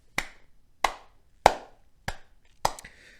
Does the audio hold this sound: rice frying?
no